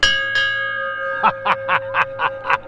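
A fire truck bell rings in a steady rhythm, six evenly spaced clangs over a constant drone from its 572 cubic inch, 1000 horsepower engine with tonal hum.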